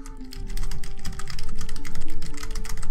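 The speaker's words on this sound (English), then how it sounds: "Must be typing a novel." Fast, continuous keyboard typing as a video game sound effect, the key clicks dense and close against a steady low tonal hum, with no voices.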